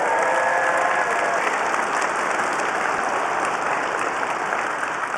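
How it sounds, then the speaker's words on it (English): A large keynote audience at a Las Vegas tech conference applauds in a steady, dense roar of clapping that stays loud and even throughout, with a few faint cheers mixed in. "Give DJ a big round of applause."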